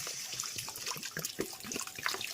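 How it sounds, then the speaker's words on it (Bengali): Hot water poured into a curry of potatoes and prawns, a short splashing gurgle of liquid at close range, fairly faint, with no voices. "এইবারে আমি গরম জল দিয়ে দেবো।"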